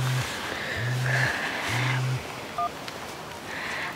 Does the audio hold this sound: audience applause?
no